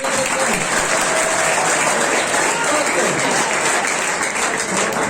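Loud, dense applause from a college audience honoring their principal, a sustained wash of many hands clapping at even strength from start to finish.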